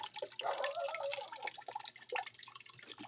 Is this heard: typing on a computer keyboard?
no